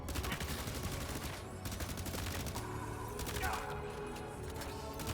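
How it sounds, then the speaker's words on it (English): Sustained rapid gunfire in the video game Death Stranding 2, a loud, continuous barrage of shots with a brief gap partway, and a player's voice talking over the shooting. "Keep shooting. Keep shooting."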